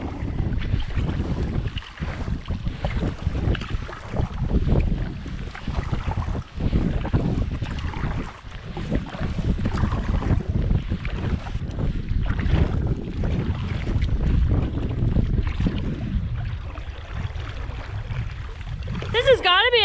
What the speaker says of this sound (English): Going into a headwind.